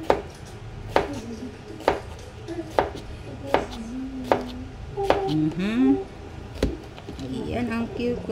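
A knife slicing cucumber on a cutting board for ampalaya salad with mixed fruits, giving about eight crisp, evenly spaced chops nearby while a person talks over the cutting.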